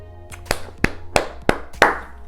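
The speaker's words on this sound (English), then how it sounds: "Want to give myself a hand clap" Five sharp, separate hand claps close by, spaced about a third of a second apart, each a crisp broadband crack over a low steady background hum, with no talking.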